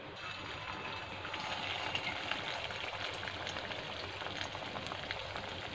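Chhana kofta balls fry in white oil, a steady, even bubbling sizzle with faint crackles that holds at a moderate level throughout, with no talking.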